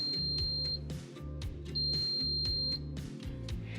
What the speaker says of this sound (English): Once the allocated time has been reached, the oven will sound an audible alert